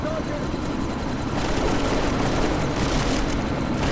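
Helicopter in the game Deus Ex: Mankind Divided, a steady rotor and engine wash with a rushing, whooshing texture that swells slightly in the second half, heard close with no talking.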